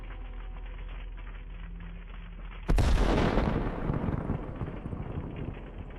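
An artillery shell strikes a Russian M1987 howitzer and its ammunition near Bakhmut, a sudden loud distant boom after steady low background rumble, followed by a long rolling roar and crackling that fades slowly.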